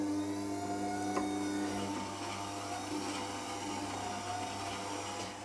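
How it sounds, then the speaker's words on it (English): Record Power WG250 sharpener running steadily as a plane blade is honed back and forth on its leather honing wheel, a continuous close motor hum and whir with faint rubbing throughout, no speech. "And I'm just running the blade back and forth along the honing wheel."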